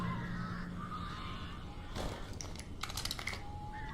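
Crows cawing in the survival horror game Alan Wake, a cluster of harsh calls and flutters arriving after a sudden swell, somewhat distant amid a constant ambient rumble.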